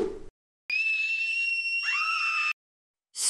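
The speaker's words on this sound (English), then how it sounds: "Don't scream. Why are you screaming?" A person lets out one sustained, high-pitched scream of about two seconds, clear and close, with brief silence before and after.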